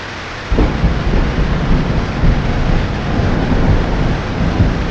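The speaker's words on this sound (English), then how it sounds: "This rain and wind has been savage all night." Heavy rain pours down with gusting wind in a steady, dense wash of noise that starts abruptly and holds loud and close throughout, with no voices.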